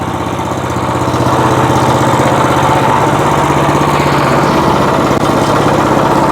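A WEIMA walk-behind tractor's engine runs steadily and loudly up close as the clutch engages and the machine drives off, a continuous mid-pitched drone with no talk over it.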